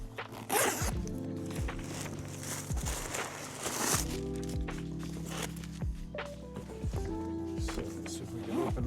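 The zipper of a thick solid-leather vintage-style laptop satchel briefcase is pulled open in several long, close strokes, each a rasping zip. Short pauses and soft handling noises fall between the strokes.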